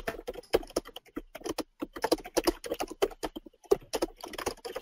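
Fast, uneven typing on a computer keyboard, dense bursts of crisp key clicks with brief pauses between words, close and fairly quiet with no one speaking.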